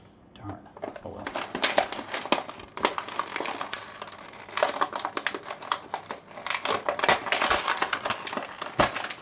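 A cardboard packaging card from a toy gets crumpled and torn by hand, giving close, irregular crinkling and crunching bursts with sharp snaps throughout.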